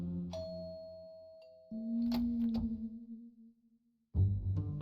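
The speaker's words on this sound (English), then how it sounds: "I'll ring the doorbell." Doorbell in the video game Policenauts: a two-tone ding-dong chime, clear and close, followed by short game sound effects and then a voice starting to speak.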